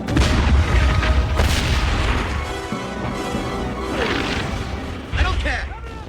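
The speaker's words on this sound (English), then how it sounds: "Give the artillery the order to open fire." Booming artillery fire and crashing impacts in a World War I desert battle near Gaza, loud and heavy at the start and again near the end, with shouted voices and battle noise throughout.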